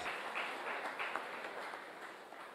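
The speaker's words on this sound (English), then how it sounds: "can we please give them another round of applause?" A church congregation applauding together, a steady wash of many hands clapping at moderate level for the whole stretch, with no talk over it.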